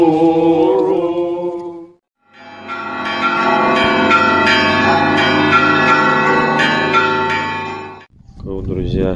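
A heavy church bell at the Nikolo-Peshnoshsky monastery in Russia rings loudly, one long sustained toll with rich lingering overtones that decays over several seconds, preceded by a short stretch of chanting or singing and followed by speech.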